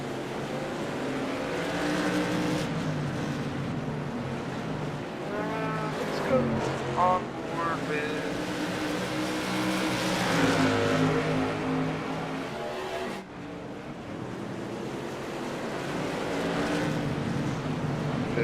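Modified race cars from the SIGMA Modified Tour lapping Oran Park Raceway, with a continuous engine drone and rising, falling pitch as cars pass by at mid distance, under a commentator talking.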